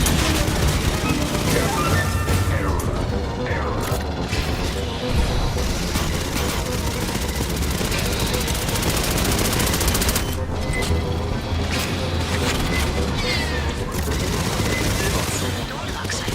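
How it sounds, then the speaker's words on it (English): Dense, continuous gunfire in Aliens: Fireteam Elite, with rapid bursts, crashes and booms layered together, loud and unrelenting throughout. "Must have heard the gunfire."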